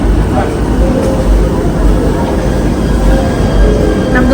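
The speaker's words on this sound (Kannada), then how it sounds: "ಎಲ್ಲ ಟ್ರೈನ್ ಬರ್ತಾ ಇದೆ. ಟ್ರೈನ್ ನೋಡ್ತಾ ಇದ್ದೀವಿ ನಾವು." Fuji Excursion train pulling into a station, a loud continuous rumble and rolling roar close by, steady throughout with faint voices in the background.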